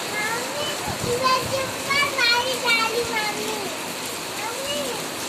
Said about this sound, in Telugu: వర్షం అయితే చాలా వస్తుంది ఫ్రెండ్స్ ఈరోజు